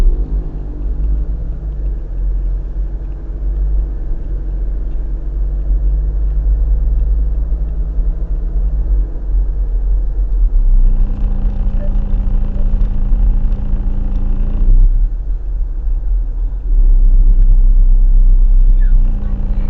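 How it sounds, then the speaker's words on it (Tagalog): A car driving through Green Hills, with a loud, continuous low engine rumble and road noise that swells and shifts as it moves along, steady with no break. "Jemson, vroom vroom! Driver ko, Jemson! Drive"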